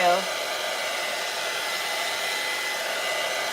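A hair dryer blows steadily over a Dollar Tree printable craft project, a loud continuous close-up whoosh with no break, heard alone.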